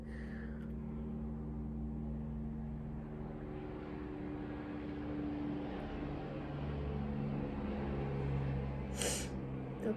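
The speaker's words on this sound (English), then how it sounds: "Let's wait for the airplane. Why is it so noisy?" Propeller airplane droning steadily overhead, a loud, sustained low engine hum that swells slightly toward the end, with no talking.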